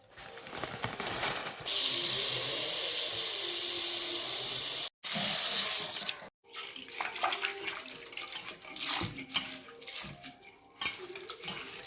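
Running water from a tap rinses ragi sticks, a steady hiss that cuts out briefly twice, then turns into uneven splashing and clattering bursts.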